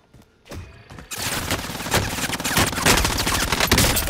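Gunfire from an enemy player in a shooter game: a few isolated shots ring out over a quiet stretch, then a dense, sustained burst of automatic fire erupts at about 1 s and grows steadily louder to the end.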